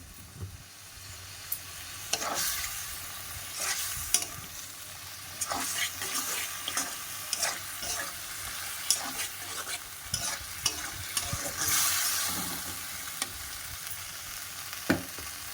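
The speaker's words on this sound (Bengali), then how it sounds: "মশলাটা কষানো হয়ে গেছে ওপর থেকে ম্যারিনেট করে রেখেছিলাম মাশরুমটা দিয়ে দিলাম" Marinated mushrooms added to cooked-down spiced masala fry and crackle in the pan, while a utensil stirs and knocks repeatedly in irregular taps and scrapes over a soft, uneven sizzle.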